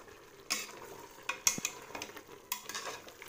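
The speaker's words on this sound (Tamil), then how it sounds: "நல்லா கிளறி விட்டுக்கலாம்." Mutton biryani masala with herbs is stirred in a pot with a metal spoon: a series of close scraping, clinking strokes over a soft sizzle, with no talking.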